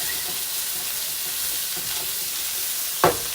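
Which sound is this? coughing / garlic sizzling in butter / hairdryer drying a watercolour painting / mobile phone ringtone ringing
garlic sizzling in butter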